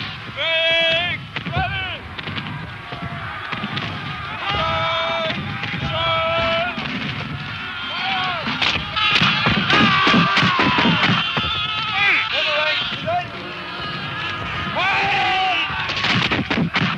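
Musket and artillery fire in a reenactment of the 1746 Battle of Culloden, with rapid volleys and booming reports under shouting soldiers and crowd noise, loud and continuous throughout.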